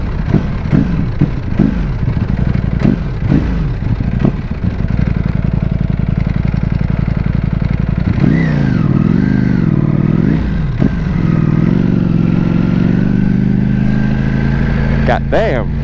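A Ducati Panigale V4S motorcycle riding through London streets, its engine loud and close, surging and revving in rising and falling sweeps over a steady drone, with a person talking over part of it.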